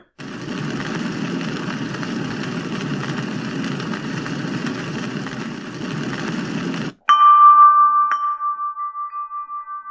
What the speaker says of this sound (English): Some meditation chimes.